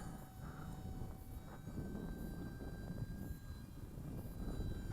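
An Attop P01 Sky Soar three-channel RC airplane flies overhead in windy conditions, its small motor giving a steady thin whine with faint high tones above a continuous rumble of wind noise, no talk heard.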